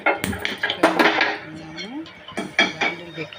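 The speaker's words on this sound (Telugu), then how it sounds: "బాండిల్ పెట్టుకుందామండి." Metal pots and pans clatter in a home kitchen as a cooking pan is set down, several sharp clanks and knocks spread over a few seconds, with someone talking between them.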